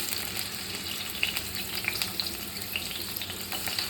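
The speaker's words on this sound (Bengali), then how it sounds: "এবার আমি এই পেঁয়াজগুলো তেলের মধ্যে দিয়ে দেব।" Cubed onions sizzle steadily in hot oil for a chatpata onion and tomato dish, with a constant bright frying hiss and scattered small pops and crackles throughout, close and with no voices.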